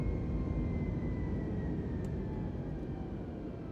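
A flight simulator airplane engine runs at full throttle, a steady, loud broadband roar with a faint tonal whine, continuous throughout without voices.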